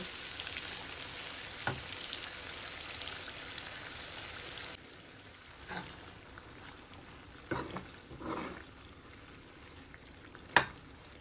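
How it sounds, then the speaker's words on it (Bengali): Shrimp fry in oil and ghee with spice masala for a prawn curry, giving a soft steady sizzle for the first few seconds, then quieter stretches broken by scattered stirring scrapes and a sharp clink near the end. "এখন আমি একটু এটাকে এই তেল আর ঘি মিক্স করা এই মশলা দিয়ে এটাকে এখন আমি একটুখানি ভালোভাবে কষিয়ে নেব।"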